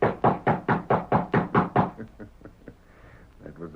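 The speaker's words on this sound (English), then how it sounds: "rapped on the ranch house door" Sharp knocks on a ranch house door in a 1938 radio drama: eight quick, evenly spaced raps up close, followed by a few softer, scattered thuds and faint background noise.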